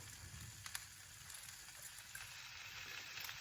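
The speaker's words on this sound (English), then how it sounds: "Just another quick listen to the sizzle." Steady low sizzling of steak and mushrooms frying in a pan, a continuous faint crackle with a few small pops, no talking.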